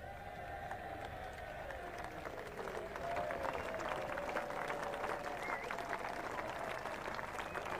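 A sparse Test match cricket crowd applauds Nick Knight's century in England vs Pakistan at Headingley, with steady distant clapping that swells slightly midway, beneath a faint tone.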